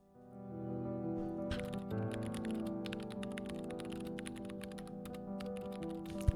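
Rapid, steady typing on a laptop keyboard, close and continuous for several seconds, with a faint musical drone underneath and no speech.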